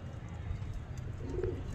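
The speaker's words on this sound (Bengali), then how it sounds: "কিছু পায়রা আপনাদেরকে দেখাচ্ছি আজ মুন্সিরহাটে এসে" Pigeons at Munshirhat coo softly in a low, murmuring drone with a brief rising coo near the end, faint and close amid a steady background hum.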